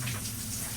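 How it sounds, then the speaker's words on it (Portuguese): Shower water running steadily in a campsite bathroom in Iceland, a close, constant broadband hiss of spray with a low hum underneath, no voices. "Tem um chuveiro."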